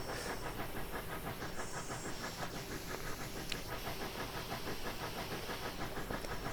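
Live steam injectors on an AT&SF Northern steam locomotive in Train Simulator Classic: a steady, close, loud hiss and rush of steam with a rapid pulsing texture running unbroken throughout.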